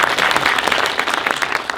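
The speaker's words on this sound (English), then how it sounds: "We can have an applause for them." Brief, lively applause for film guests at a VIFF documentary event: dense, crisp clapping from an audience, loud and close, lasting under two seconds.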